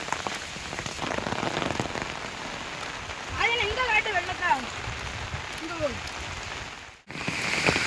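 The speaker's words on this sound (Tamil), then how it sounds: "வரலாறு காணாத மழை பெஞ்சிக்கிட்டு இருக்குது திருநெல்வேலி மாவட்டத்தில்" Heavy rain pours steadily at a Ganesha temple in Tirunelveli district, a dense, loud hiss of drops on surfaces throughout, with a bird calling briefly in the middle and a short dropout near the end.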